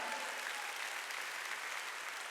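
A church congregation claps during a Sunday worship service, a brief, fairly faint and even wash of many hands with no talking over it.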